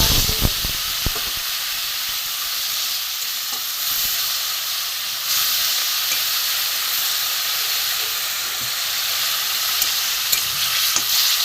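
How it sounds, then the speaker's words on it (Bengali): Ground turmeric, chili, cumin and grated ginger sautéed in oil for a river fish curry, a loud, steady hissing sizzle with a few clinks of a spatula near the start, continuing without a break. "এবার একটু ভালো করে কষিয়ে আমি জল দেবো"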